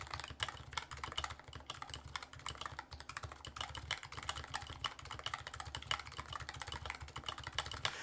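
Fingers type on an EC keyboard fitted with ABS keycaps, a fast, continuous patter of soft, muted keystrokes, close and fairly quiet, with no talk.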